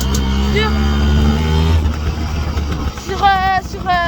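A small pit bike engine runs steadily and loud up close, then revs up with rising whines near the end, with voices speaking over it.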